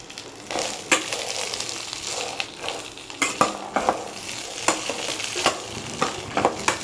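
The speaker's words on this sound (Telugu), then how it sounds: "రెండు స్పూన్ల ఆయిల్లో ఇది వేసుకోవాలి బాగా కలుపుకోవాలి" Sweet corn kernels frying in two spoons of oil while being stirred: a steady close sizzle with repeated scraping and clinking strokes of a spoon against the pan, no talk.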